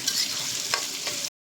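Onions sizzle in hot oil with whole spices like cardamom, cinnamon and cloves for a chicken curry, a steady close crackle with a couple of stirring scrapes, then an abrupt cutoff.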